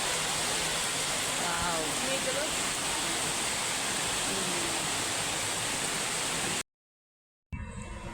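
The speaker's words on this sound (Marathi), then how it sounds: "पाऊस छान पडायला सुरुवात झाली" Heavy monsoon rain pours in a steady, even hiss that fills the surroundings, with faint voices underneath. It cuts out to a short silence and then resumes.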